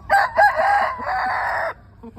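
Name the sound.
fighting rooster crowing, breeding cock named Thong Dam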